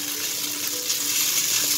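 Vegetables and vermicelli sauté in a pan with steady, close frying sizzle and light stirring scrapes, continuous and even throughout without any talk.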